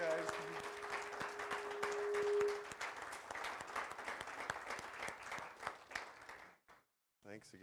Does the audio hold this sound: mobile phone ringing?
no